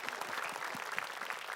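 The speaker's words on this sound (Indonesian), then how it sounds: "Tepuk tangan dulu Bu untuk Nash" Audience applause at an Islamic talk show, a steady dense patter of many hands clapping, fairly faint and continuous with no clear breaks.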